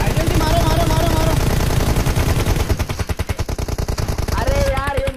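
Rapid bursts of automatic gunfire from a mobile battle game crackle loud and continuous, mixed with game sounds while someone talks excitedly over the shooting.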